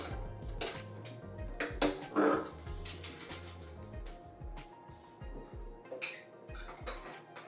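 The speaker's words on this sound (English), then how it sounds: "Okay, time to put away my plates and pans." Dishes and pans clatter and clink repeatedly as they are handled and stacked, with irregular bursts of metallic and ceramic knocks close by.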